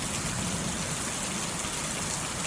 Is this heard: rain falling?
yes